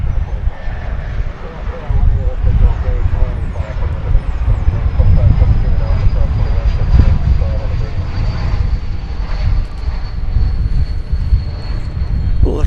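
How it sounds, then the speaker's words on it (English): An Airbus A330 airliner, flight 345 from Minneapolis–St. Paul, passes over DFW airport after a go-around, heard as a low rumbling drone under steady talk. "It's flight 345 from Minneapolis, St. Paul. An Airbus A330."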